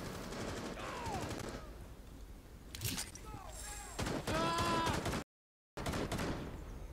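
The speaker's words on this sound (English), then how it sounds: "What are you doing shooting off your gun?" Video game gunfire in Rainbow Six Siege: bursts of automatic shots and single cracks ring out in clusters, loud and close, mixed with in-game clatter and a few voices, with a brief dropout near the end.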